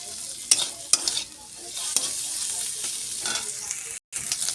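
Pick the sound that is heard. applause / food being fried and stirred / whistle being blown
food being fried and stirred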